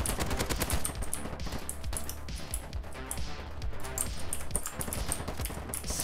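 SCAR rifle in the shooter Polygon: sustained automatic fire, dozens of rapid sharp shots in a steady rhythm with brief pauses, moderately loud and close.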